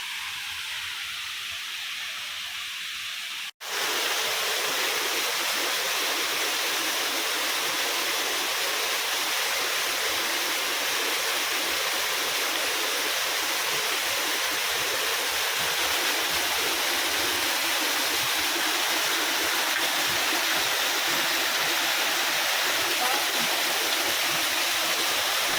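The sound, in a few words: waterfall flowing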